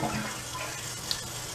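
Steady watery hiss of a toilet fill valve running continuously, with a faint high-pitched whistle, close and fairly quiet.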